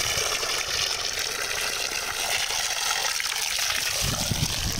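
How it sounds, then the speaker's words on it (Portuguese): Water runs from a roadside fountain in a remote spot, a loud, close, steady rushing splash that continues unbroken throughout. "há aqui uma fonte e eu vou beber água da fonte"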